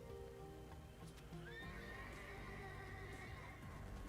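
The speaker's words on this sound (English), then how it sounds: "Love this thing that doesn't look anything like a horse, neighs like a horse" In Legend of Dragoon, a creature lets out a long horse-like whinny over game music and clopping hooves, clear and prominent, with no speech.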